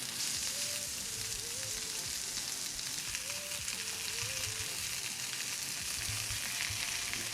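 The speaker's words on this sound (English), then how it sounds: "we season both sides and got it into a hot cast iron skillet" Lamb chops sear in a tablespoon each of butter and olive oil in a hot cast iron skillet, giving a steady, close, even sizzle and crackle that carries through the whole stretch with no talk.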